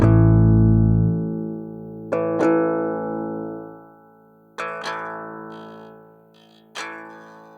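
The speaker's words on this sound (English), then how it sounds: "So you can tell that's just leaving behind the string noise, all the pingy and zingy stuff." An electric guitar played through an Audiofab Frequency Distiller high-pass filter is strummed four times, each chord ringing out and decaying in a thin, bright, string-heavy tone with the low body stripped away.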